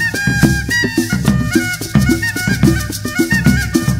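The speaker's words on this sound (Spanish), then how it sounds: "Y un instrumento de viento que puede ser el autemillo o pito atravesado," Cumbia groove featuring a millo, the transverse cane flute also called pito atravesado, with bright reedy melodic phrases riding over steady rhythmic percussion, loud and continuous without talk.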